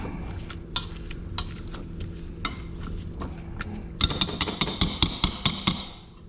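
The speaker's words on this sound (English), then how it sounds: "Now I take my potato smasher and I'm just gonna get started mashing taters." Potatoes mashed with a hand potato smasher: soft thuds and squelches under a low kitchen hum, then a run of about eight sharper, evenly spaced pressing strokes near the end.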